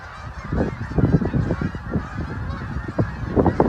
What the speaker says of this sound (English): Look at them all the geese heading south.